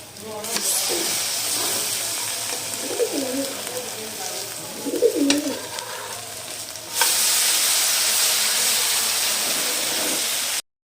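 French toast frying in a pan, a steady sizzle with a few clinks and scrapes partway through, then a sudden louder and brighter hiss that holds until an abrupt cutoff. Some low background noise is also present.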